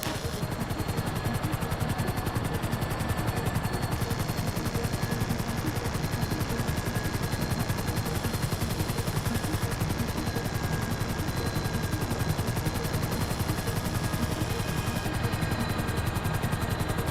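Gunfire rattles from a helicopter in GTA V, rapid bursts layered over a constant rotor and engine drone, steady and loud throughout with no talking.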